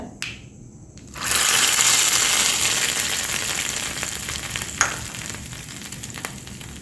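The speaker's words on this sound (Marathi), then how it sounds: "आता हा तडका पण टाकून द्यायचा आहे केलेला" Hot tadka tempering poured into an idli-dosa chutney bursts into a loud, bright sizzle after a brief quiet moment, then hisses steadily and fades slightly, with a sharp pop partway through.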